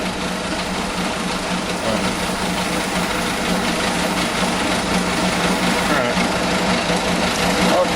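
A concrete mixer engine under repair runs steadily and loudly, a dense continuous mechanical drone with a rapid buzzing vibration, up close, as people talk briefly over it.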